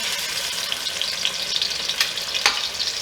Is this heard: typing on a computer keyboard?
no